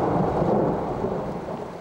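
Thunderstorm over the Owyhee River canyons in Idaho, a steady loud roll of thunder blended with heavy rain falling throughout, no voices.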